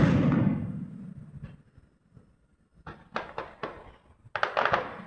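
Fireworks at a birthday celebration fade out from one loud boom, then a run of quick crackling pops follows, irregular and moderately distant, ending in a brighter cluster of snaps.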